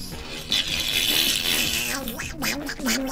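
A human voice makes a rapid, duck-like quacking sound in place of a laugh, continuous and fairly loud for about three seconds, alone with no words spoken.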